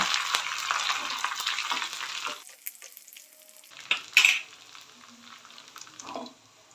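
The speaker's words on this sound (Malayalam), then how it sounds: "ഉള്ളി മൂത്ത് വരുമ്പോൾ മുഴുവൻ മുളക് ഇട്ട് കൊടുക്കുക. കറിവേപ്പിലയും ഇട്ട് കൊടുത്ത് നന്നായി ഇളക്കുക." Onions, whole chillies and curry leaves sizzle in oil for a tempering for milk tapioca, a steady hissing fry that fades midway, then stirring clatters and a louder sizzling burst rises near the end.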